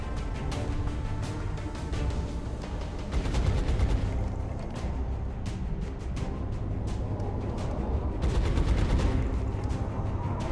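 Suppressing gunfire in an XCOM battle: rapid bursts of automatic weapon fire crackle almost continuously, with denser, louder volleys partway through and near the end.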